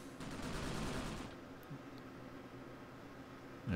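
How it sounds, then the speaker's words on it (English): Soldiers' gunfire in the war game Graviteam Tactics: a faint, distant burst of rapid shots for about a second, then quieter scattered crackle and rumble. "Alright, those guys are firing."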